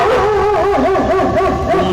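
A dog barks and yips close by in a short, loud burst of rapid barks.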